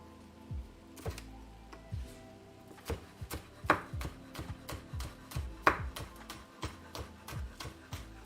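Green onion is chopped with a knife on a board, a close series of irregular crisp taps with brief pauses and a few louder knocks.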